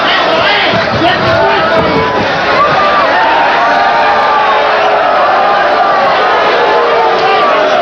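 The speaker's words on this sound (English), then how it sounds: "Crowd accuses Valdez, through its boos, of hitting low" Loud boxing arena crowd booing and jeering throughout a Samuel Serrano vs Julio Valdez fight, a dense, sustained roar of many voices with rising whoops and shouts.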